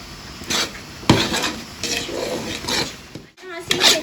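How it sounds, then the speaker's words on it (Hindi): Chana dal halwa is stirred in a pan: repeated scraping and knocking of a spoon against metal, loud and close, with a light sizzle underneath. "यहाँ से इसे अच्छी तरह से आपने मिक्स करना है।"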